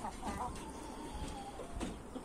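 A chicken in a backyard aviary, likely the speckled carijó, clucks softly a few times over quiet background noise, faint and close.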